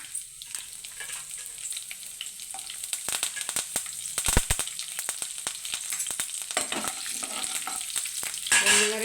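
Urad dal and onions fry in oil in a pan while cooking a potato dry curry, with a continuous soft sizzle broken by crackling pops and scraping stirs, fairly quiet and close, with no talking.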